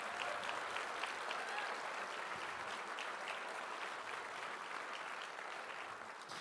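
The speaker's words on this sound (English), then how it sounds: "One more time, round of applause for him." Steady audience applause for Ontario Liberal leader Steven Del Duca fills the room, dense and even throughout with no clear talk over it, easing slightly at the end.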